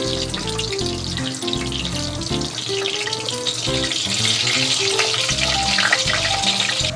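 Hotdogs fry in a pan with a steady, crackling sizzle and bursts of spattering fat, close and continuous throughout, no voices present.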